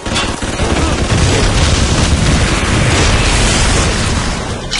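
An EMP bomb packed with nitroglycerin detonates in BioShock, a loud sustained roaring blast with crackling debris that fills the whole stretch, close and overwhelming with no talk.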